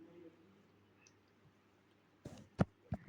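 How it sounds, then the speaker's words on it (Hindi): A computer mouse gives a few quick, faint clicks near the end, after a stretch of near silence and a little soft murmuring. "सो मैंने इस पर क्लिक किया"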